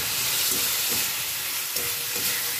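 Fried fish pieces are stirred into a spiced masala for a light fish curry, giving a dense, continuous sizzle with soft, rhythmic stirring scrapes every half second or so.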